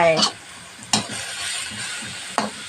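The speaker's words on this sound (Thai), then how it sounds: "ผัดเข้าไป" Food stir-fries in a hot pan for a simple home-style Thai meal: a continuous close sizzle punctuated by three sharp scrapes or knocks of the spatula against the pan.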